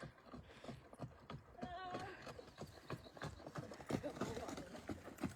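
Horse hooves clip-clop faintly in an uneven rhythm, with voices talking in the background.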